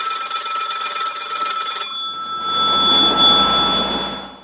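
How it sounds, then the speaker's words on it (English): A telephone bell rings steadily and loudly for about two seconds, a bright sustained ring that cuts off and gives way to a softer swell of background noise. "And now, a very special, podcast-only, exclusive phone call conversation with Graham"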